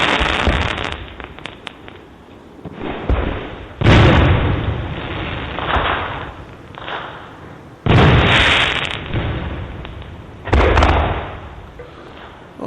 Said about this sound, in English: open up the window for a second and see what the fireworks sound like out there